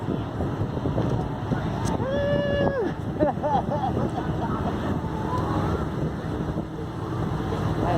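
A boat runs in downtown San Diego under steady wind and water noise, with a few brief rising tonal whines and murmuring voices in the background.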